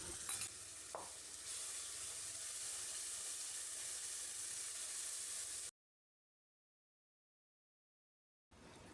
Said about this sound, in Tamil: இந்த மசாலா கலவையை வதங்கின வெங்காயத்தோடு சேர்த்து கலந்து விடணும்.